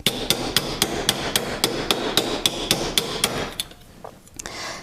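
Steady metal hammer strikes shape a bracelet over a steel forming mandrel, roughly a dozen sharp, evenly spaced blows landing close and loud, then a short pause before the tapping resumes.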